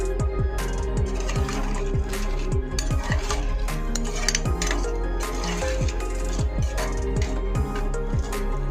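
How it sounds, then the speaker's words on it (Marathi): A spoon stirs a vegetable curry in a metal pot after water is added, a rapid, close run of scraping clinks and knocks against the pot's sides, loud and steady throughout. "आणि हे चांगलं मिक्स करून घेऊया"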